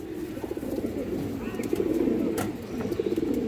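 Pigeons coo continuously in a loft of old-line breeds, with a female pigeon among them; a low, rolling, overlapping murmur of several birds carries steadily through the moment, fairly close and even in loudness.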